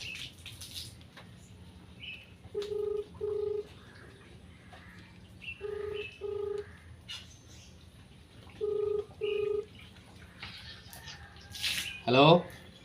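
A phone keypad is dialed, giving short evenly spaced tone beeps in small groups, faint and close, with a brief chirping sound near the end.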